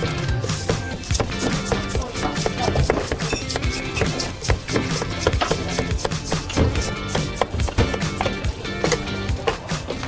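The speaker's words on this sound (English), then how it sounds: "The clean cuts, the crisp sounds, each piece perfectly uniform." A knife chops rapidly and steadily through a giant Napoleon fish on a cutting board, a dense run of crisp, loud, close thuds and slices continuing for the full length without pause.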